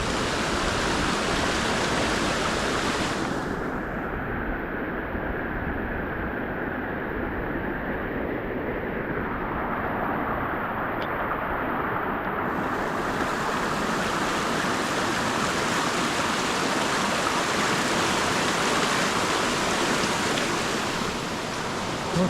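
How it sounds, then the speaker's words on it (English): A swollen, rain-fed river rushes past a downed pasture fence on a wet farm, a dense, steady roar of fast water that stays loud and unbroken throughout with no voices. "That river is just flowing."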